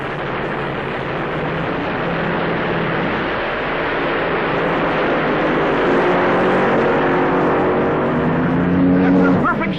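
Dragsters launch down the strip at the 1975 NHRA US Nationals in Indianapolis, a loud continuous engine roar whose pitch climbs toward the end.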